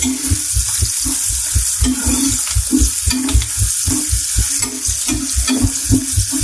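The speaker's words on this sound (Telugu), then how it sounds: "అలాగే దీంట్లో కొంచెం పసుపు కూడా యాడ్ చేసుకుందాం కూడా పచ్చివాసన పోయేంత వరకు ఫ్రై చేసుకోవాలండి" Spices and turmeric frying in a pan for a tomato egg curry make a loud, close sizzle. A spoon stirs them in a steady rhythm throughout, and no one speaks.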